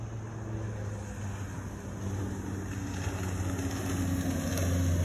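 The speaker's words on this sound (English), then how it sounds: "Hearing a boat go by now." A motorboat passes on the water during a nature hike, its low engine drone steady and gradually growing louder under faint wind and outdoor ambience.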